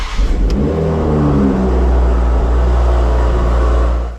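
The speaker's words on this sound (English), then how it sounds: "So now we'll just go the clutch in and fire up." A Toyota Supra MK5 cranks with a short starter whine, then its engine catches and settles into a loud, steady idle close by, with no voices.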